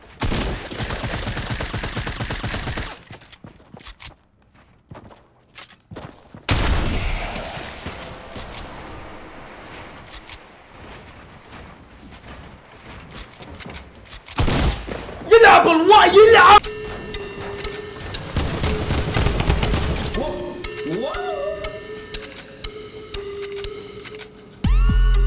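Gunfire in Fortnite Battle Royale comes in loud bursts of shots with quiet gaps between them, along with other game effects and a player talking over it.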